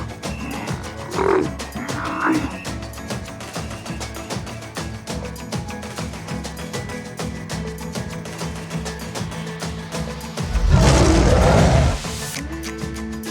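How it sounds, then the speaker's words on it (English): A lion roars once, loud and close, for about two seconds near the end, over steady, cheerful background music, with a couple of shorter, softer growl-like calls earlier in the clip. "A lion roars."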